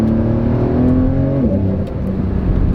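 Porsche 911 992 Carrera engine blips and revs through downshifts on a wet road, heard from inside as a loud, rising and falling throaty drone that dips sharply midway before climbing again.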